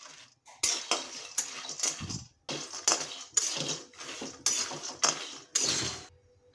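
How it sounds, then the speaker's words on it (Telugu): Half a kilo of peanuts tossed and stirred in a hot pan, giving repeated bursts of dry rattling and scraping against the metal in an uneven rhythm, close and fairly loud, with no talking. "ఇక్కడ 1/2 కేజీ పల్లీలను అయితే ముందుగానైతే వేపుకుందాం"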